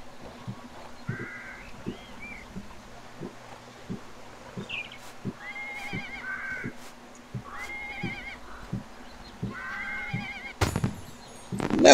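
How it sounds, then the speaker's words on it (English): In the ArcheAge video game, a donkey brays several times in drawn-out, wavering honks, spaced a couple of seconds apart over soft rhythmic thumps, ending in a sudden loud burst. "Now we have a donkey."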